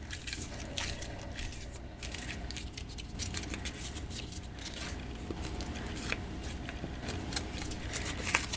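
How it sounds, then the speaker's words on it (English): A wet paper tag stamped with a resist technique is crumpled by hand close up, giving a long run of soft crackling, crinkling and scrunching with irregular sharper crunches throughout. "I'm going to take this and I'm going to actually crumple it up."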